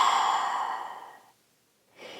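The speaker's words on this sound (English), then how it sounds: "And exhale, let it out." A long, audible yoga exhale, one slow breath released steadily out and fading over about a second, followed by a brief quiet pause and the soft start of the next breath.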